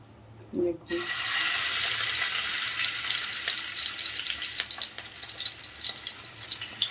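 Marinated catla fish slices drop into hot oil in a pan over a low flame, setting off a loud, steady sizzle that rises suddenly after a brief quiet moment and keeps crackling at close range with no one talking.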